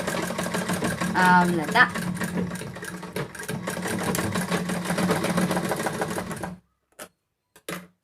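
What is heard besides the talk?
sewing machine stitching blouse shoulder seam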